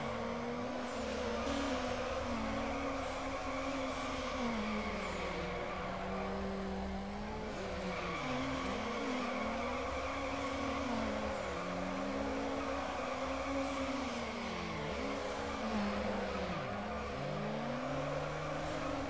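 A car engine revs and wavers in Need for Speed Underground, its pitch rising and falling with long squealing tire drifts under traction control off, loud and continuous throughout.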